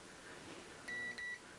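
Digital multimeter in continuity mode beeping while probing pins during a Philips CD-i repair, two short high tones in quick succession, quiet and clean with no talk.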